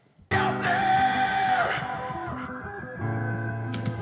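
Dry ambient piano passed through a sound shifter effect with no distortion: sustained, layered chords ringing out loud and close, with a chord change near the end and no other sounds.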